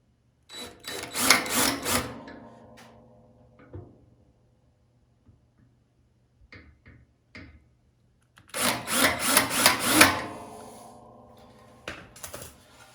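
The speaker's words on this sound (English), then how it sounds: "then just drill and take out just a little bit of the paint" A drill bites into the painted surface of a John Deere 54-inch Quick Hitch blade extension in two short, sharp bursts separated by several seconds of near silence.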